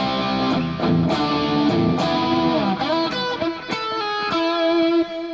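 A distorted electric guitar plays a melodic riff with sustained, buzzing notes and quick slides, fairly loud and alone with no voices.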